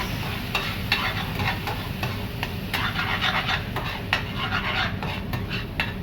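Marinara sauce is mixed with other cooking ingredients, producing a continuous dense bubbling, scraping and sloshing texture with small clicks of the spoon throughout.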